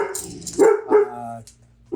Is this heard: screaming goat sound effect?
no